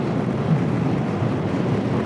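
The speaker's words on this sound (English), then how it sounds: "Oh, windy." Wind buffeting the microphone in a constant low, rushing roar that stays steady throughout, with no voices.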